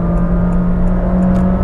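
Honda City e:HEV RS hybrid car pulling away from low speed, a steady loud engine and motor whir with a constant hum filling the cabin, no talking.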